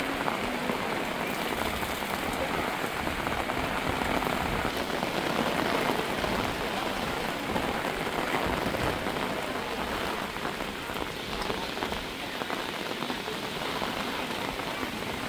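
Heavy downpour over Hyderabad at midnight, a dense, steady roar of rain hitting surfaces that holds at full strength from start to finish with no voices.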